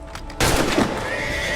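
A horse neighs loudly in Assassin's Creed 3, a sharp whinny bursting in after a brief quiet and trailing off over the remaining second with game ambience beneath.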